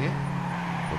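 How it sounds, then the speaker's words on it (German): A car drifting in the racing video game Trackmania 2 Canyon: a steady, loud engine drone with tire squeal, under a speaking voice. "Dann ein schöner Drift."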